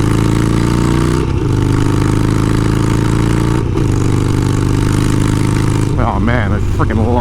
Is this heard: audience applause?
no